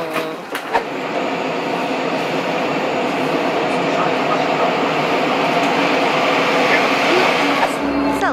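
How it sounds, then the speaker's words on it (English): Jet airplanes take off at Fukuoka Airport, heard from the observation deck as a loud, sustained roar that builds and holds for several seconds, with a faint tonal whine near the end. "We can watch planes take off."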